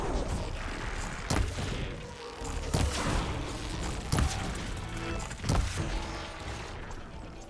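Gunfire in the game Horizon Forbidden West, a steady noisy bed of combat punctuated by four or five sharp loud impacts spaced roughly every second and a half.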